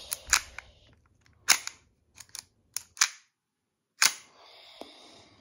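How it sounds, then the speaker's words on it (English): A KWA 1911 MkII green gas blowback airsoft pistol is handled, with several sharp, close metallic clacks spaced apart as the slide is released forward and worked. "there's a button here and you just push it down to release the slide forward"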